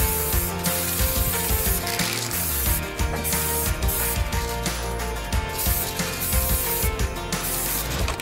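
Silver aerosol paint hisses in steady bursts from a spray can onto a 24 kg kettlebell, loud and close, with short pauses between passes.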